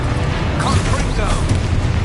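A Confringo fire spell explosion in a Harry Potter video game, a steady loud booming rumble with crackle lasting about two seconds, with a voice mixed in.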